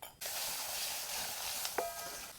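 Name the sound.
mustard seeds and onion sizzling in hot oil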